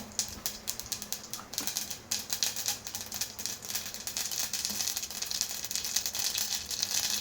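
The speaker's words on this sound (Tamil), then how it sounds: "எண்ணெய் நல்லா காஞ்ச உடனே கடுகு போட்டுக்கலாம் கடுகு நல்லா பொரியட்டும்" Mustard seeds spluttering in hot oil in a pan, a dense, close, continuous crackle of tiny pops that goes on steadily with no talk.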